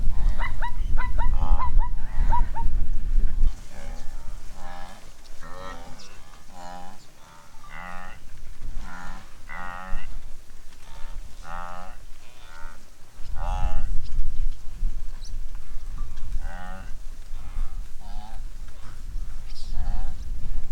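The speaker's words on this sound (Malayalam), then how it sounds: "ആ പശു കരയുന്ന പോലെയുള്ള സൗണ്ട് വൈൽഡ് ബീസ്റ്റിന്റെ" Wildebeest herds on the Great Migration in the Masai Mara give repeated cow-like lowing calls, many overlapping at near and middle distance, under a talking voice.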